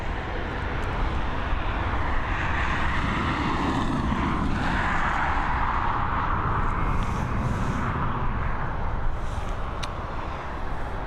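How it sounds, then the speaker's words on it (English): A Ryanair Boeing 737 MAX at Dublin Airport produces a sustained jet engine roar with a shifting whine, steady and fairly loud across the whole stretch, with no talking. "FR7072 heading over to Porto. It's a Boeing 737 MAX."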